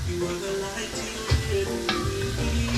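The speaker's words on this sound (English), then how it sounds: "So you just want to get your garlic really nice and golden brown." Garlic frying in a pan for potato leek soup, a steady close sizzle with stirring scrapes and a couple of louder clatters partway through.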